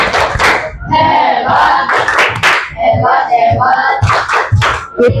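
Children in a classroom chant and clap together in rhythm at a teacher's cue for 'tepuk hebat', a loud, close group of young voices with sharp hand claps punctuating the chant throughout.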